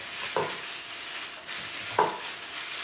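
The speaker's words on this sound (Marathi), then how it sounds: "पहिले ऑनियन्स मिक्स करता हांव" Chopped onions mixed with chili and half a teaspoon of salt in a bowl, a steady soft rustle under a hiss, with two brief louder scrapes, close and quiet, no talking.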